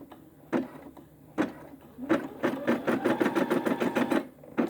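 A Brother SE600 embroidery machine stitches a quilt, starting with a few separate mechanical bursts and then settling into a fast, steady run of needle strokes with a motor whine, close and clear, with no talking.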